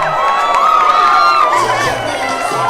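A big crowd at the London Floodlit 7s rugby tournament in 2021 cheers and whoops loudly and without a break, with high shouts rising over the roar.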